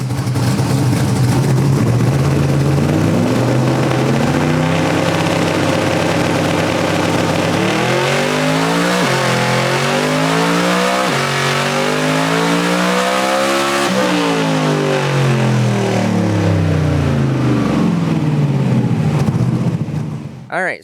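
A car engine on a dyno makes a full, loud pull with the boost controller left off, its revs climbing steadily in a sustained roar that drops and rises again partway through before easing off.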